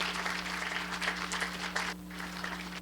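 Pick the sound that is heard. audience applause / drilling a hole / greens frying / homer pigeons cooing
audience applause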